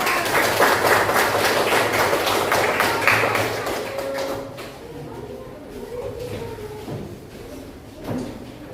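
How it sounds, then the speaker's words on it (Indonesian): Students in a classroom clap for their classmates in a brisk, dense round of applause that thins out after about four seconds into scattered claps, shuffling and movement. "Silakan tepuk tangan untuk teman-teman."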